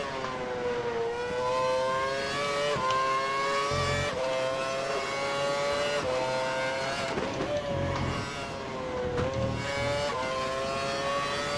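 Race cars in the F1 2012 video game at Hockenheim, a Williams among them, hold a steady high engine whine that rises and drops with each gear change, loud and continuous with no talk.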